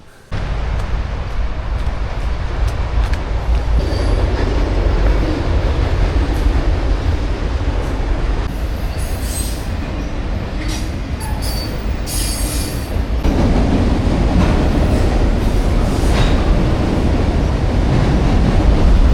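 A train runs on elevated tracks directly overhead, producing a loud, sustained rumble of wheels and cars. High metallic wheel squeals rise midway and build toward the end.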